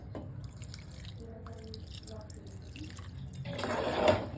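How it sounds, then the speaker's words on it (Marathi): A glass of water pours into a cooking pot with a gurgling splash near the end, after quiet kitchen sounds and soft drips. "आपण त्याला लावून घेऊ आणि एक ग्लास पाणी त्यातमध्ये टाकूयात"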